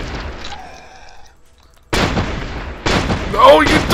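Gunfire in the horror video game Primal Fears, set in a hospital: a quiet stretch gives way to sharp, loud bursts of shots that grow denser and more intense toward the end, with voices mixed in.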